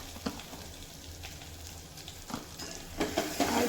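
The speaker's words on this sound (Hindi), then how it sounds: "और इस मसाला को फ्राई कर लेंगे।" Spice masala for kadhi with Kashmiri red chilli powder and salt sizzles and fries in a pan, a soft, steady crackle with faint stirring scrapes, close and quiet.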